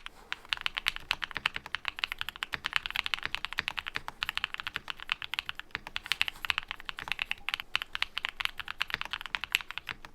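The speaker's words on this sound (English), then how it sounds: "This particular one uses KTT wine red switches, which feels excellent when typing and sounds amazing too." A mechanical keyboard with KTT Wine Red switches clacks in fast, continuous typing, the crisp close keystrokes running evenly throughout with no voices.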